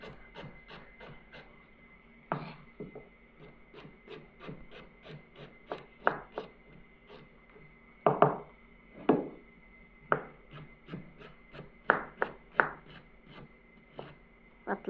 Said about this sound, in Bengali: আদা কুচি করে নিচ্ছি